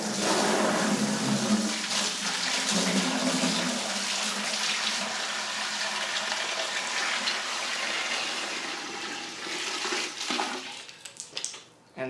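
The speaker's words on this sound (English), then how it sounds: "now I'm just going to fill it up with the water hose" A garden water hose fills a container with a loud steady gushing stream that gradually softens and ends in a few splashes and knocks, no talk.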